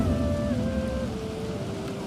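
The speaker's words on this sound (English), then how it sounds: "Oh no, it's raining!" Steady rain patters in the video game Planet Coaster 2, a dense continuous hiss with sustained tonal music lines running over it, no voices.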